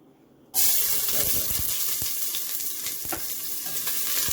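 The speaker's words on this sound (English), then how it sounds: "we have to fry up our onion to release some flavors" Onion and ginger dropped into hot oil for a Jamaican curry chicken foot stew, a sudden loud sizzle bursting in after a quiet start and crackling steadily up close, with a few stirring knocks.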